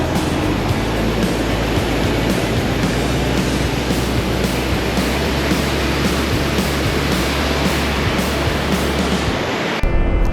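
Loud, continuous roar of Alubagog Falls waterfall, a dense rushing wash that holds steady before cutting off near the end, with no talk heard.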